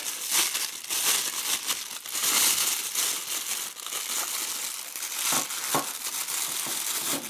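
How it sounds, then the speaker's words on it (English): Plastic sticky tape being cut open on a package for a remote-controlled desert buggy, with loud crinkling, tearing and rustling of wrapping in close, irregular bursts and no speech. "Let's go ahead and cut open that sticky tape."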